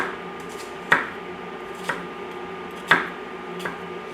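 A knife mincing an onion finely on a cutting board: a few sharp, spaced chops land against the board, close and clear, with a faint steady hum between them.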